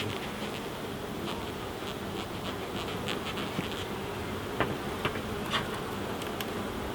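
Honey bees hum at an opened hive during an inspection after a little smoke, a steady close buzz with occasional faint clicks and knocks of equipment, no voices.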